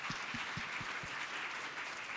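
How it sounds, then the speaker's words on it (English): Applause from a conference audience at an actuarial event, steady and moderately loud throughout the short stretch, with a few sharp thuds near the start. "Let's give a round of applause to him."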